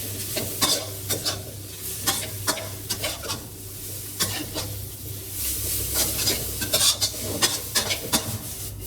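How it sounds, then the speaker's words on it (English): Ramen noodles tossed and stir-fried in a hot pan with seasonings, utensil scrapes and clacks against the pan bottom in an uneven rhythm over a continuous sizzle, close up with no speech. "Continue tossing until well coated with the seasonings. Scrape the bottom of the pan some more to get everything well mixed in."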